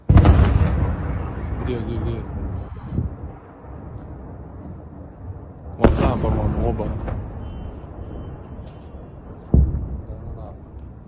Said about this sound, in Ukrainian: Власне, це нічні вибухи в Білгороді